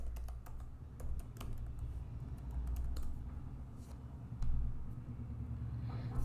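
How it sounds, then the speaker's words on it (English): Computer keyboard typing, a quick run of close, light key clicks over a low, steady rumble. "I am going to type this command."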